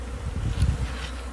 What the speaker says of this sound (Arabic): لما رشينا النحل مويه شوفوا شلون خمد النحل